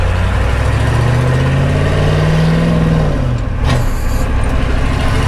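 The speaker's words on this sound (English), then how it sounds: "We'll go from second." A 1983 Ford F-350 truck engine drones loud and close while driving, its low rumble rising in pitch through a gear, then a brief drop and shift before pulling on again.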